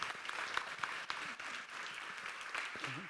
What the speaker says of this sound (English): Please, a round of applause to our speakers.